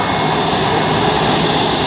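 An F-117 stealth jet makes a flyby at the 2005 Andrews AFB airshow, a loud, steady, roaring jet-engine wash with a high whine running through it, filling the whole stretch without a break.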